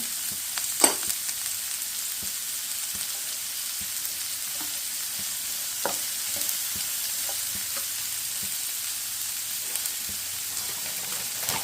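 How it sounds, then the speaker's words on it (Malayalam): Dried red chillies and green chillies fry in hot oil for an egg roast, a constant close sizzle broken by occasional sharp pops and stirring clicks, with no talk. "നമ്മൾ സെൻട്രൽ കട്ട് ചെയ്തിട്ടുള്ള വറ്റൽമുളക് ഇതിലേക്ക് ഇട്ട് കൊടുക്കുന്നു. പച്ചമുളക് ഇട്ട് കൊടുക്കുന്നു."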